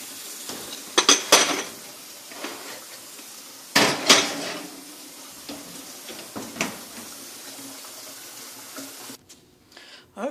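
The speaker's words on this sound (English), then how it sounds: "we're going to put a little lid over it. We'll stick it in the oven for about 25 minutes" Metal roasting pan handled in a kitchen: a lid clanks on and the pan knocks into an oven, with sharp scattered clatters and bangs over a quiet room.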